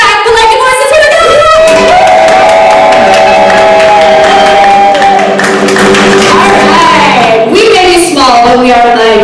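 Enthusiastic audience cheering and clapping at a live music show, loud and dense, with shouts, whoops and sustained voiced cries over steady applause throughout.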